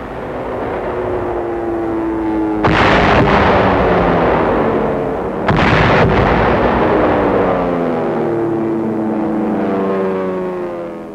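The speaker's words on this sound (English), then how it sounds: "the B-25s blast holes in the walls, opening up the way for tanks and infantry" B-25 bombers blasting fort walls during the 1945 siege of Mandalay's Fort Dufferin, two heavy booming blasts over a steady droning aircraft engine, loud and continuous with no talk.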